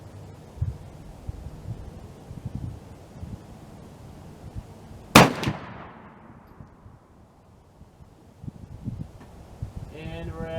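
A single loud, sharp gunshot from a CVA Accura muzzleloader firing a 90 grain load, with a trailing echo that fades into quiet outdoor ambience.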